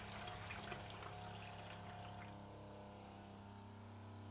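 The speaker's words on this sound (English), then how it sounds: "I've got running water there." Water running steadily from a tap on a newly plumbed narrowboat water system, a continuous trickling flow over a low, steady electric pump hum, close and fairly quiet, with no talking.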